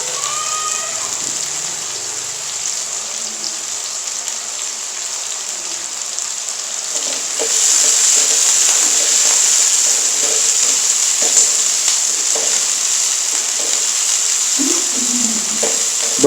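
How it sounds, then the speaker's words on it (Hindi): Capsicum frying in a pan on a low flame for chilli chicken, a steady bright sizzle that grows louder partway through, with occasional clinks of a utensil and no talking. "अब हम इसमें शिमला मिर्च ऐड करेंगे और इसको अच्छे से कुक करेंगे"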